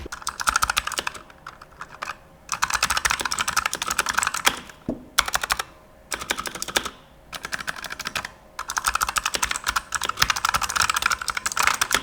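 Typing on a Razer Huntsman gaming keyboard with clicky optical switches, close and crisp, in fast bursts of keystrokes broken by short pauses.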